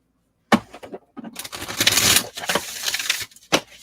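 A deck of oracle cards shuffled close up, crisp riffling and papery rustles in a few quick bursts separated by short pauses, with no talking.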